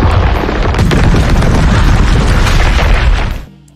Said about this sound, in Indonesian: Dorian meledakkan semua bom yang mereka bawa.